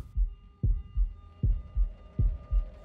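Heartbeat effect in the video game Shadow of the Tomb Raider: a steady run of deep, close lub-dub thumps, about four pulses, over a faint background hum.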